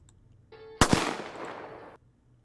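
A single loud gunshot cracks out in a music video, cutting in over a short musical tone and leaving a broad, reverberant tail that fades over about a second before quiet returns.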